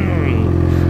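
A first motorcycle's engine idles and revs steadily up close, a loud continuous mechanical drone with a strong low rumble and harmonic whine throughout, no pauses.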